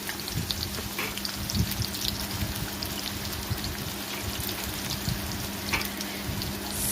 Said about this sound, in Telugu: ఇప్పుడు ఆయిల్ దీంట్లో ఆనియన్స్ వేసుకుందాము